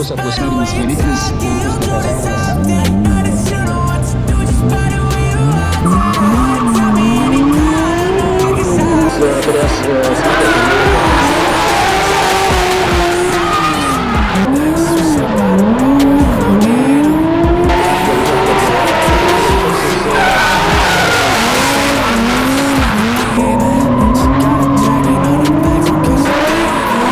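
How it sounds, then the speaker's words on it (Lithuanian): A drift car with a naturally aspirated engine at a drift event in Alytaus howls loudly through rising and falling revs while its tires squeal continuously, with a commentator talking over it. "Puikus atmosferinis variklis."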